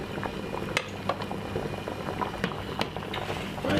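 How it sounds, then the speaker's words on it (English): Potatoes and eggs boiling in a pot, with busy, continuous bubbling and occasional light clinks, quiet and close with no talking. "And I'm boiling 2 eggs."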